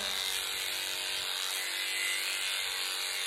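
A Bravura cordless trimmer clips a cat's coat during a lion-cut grooming, giving a steady close buzzing whir that stays continuous and even throughout.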